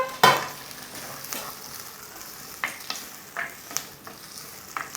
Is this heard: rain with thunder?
no